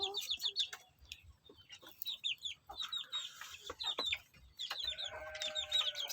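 Young free-range village chickens in a simple coop cluck and peep in quick, high chirping bursts, fairly close and continuous, over a faint low background rumble.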